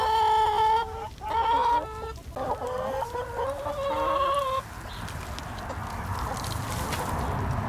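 Backyard hens in a chicken compost run cluck and call in loud, close, repeated bursts, then settle into a quieter outdoor hum as the calling stops.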